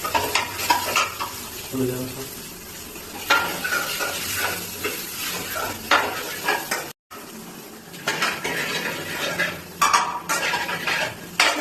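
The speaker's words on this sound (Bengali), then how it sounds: "রান্নার মতন খুন্তি নাড়াচ্ছ তুমি" A spatula stirring and scraping food in a frying pan during home cooking, repeated metal scrapes over a steady sizzle with occasional clinks of utensils, close and loud, with a brief dropout midway.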